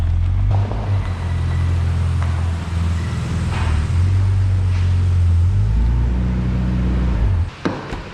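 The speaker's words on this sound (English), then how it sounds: "This thing is gutless, dude. Oh, dude. That's an unhappy engine." A struggling Nissan VG engine runs badly, giving a loud, low, uneven droning rumble that holds steady for several seconds before cutting off near the end.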